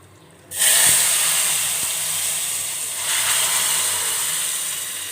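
Buttermilk poured into hot roasted semolina in a pan erupts into a loud, sudden sizzle and steady hiss that carries on evenly and swells again briefly partway through.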